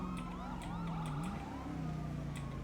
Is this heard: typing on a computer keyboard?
no